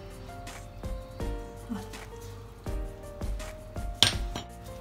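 A spoon shapes and flattens dough balls for a simple, economical cake, tapping and clinking lightly against a dish several times in an uneven rhythm, close by, with a brief spoken word.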